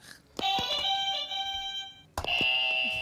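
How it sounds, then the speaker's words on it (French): Two quiz game buzzers sound one after another, each a sustained bright electronic tone with a sharp onset, separated by a brief pause. "Alors, bon, on va tester vos buzzers."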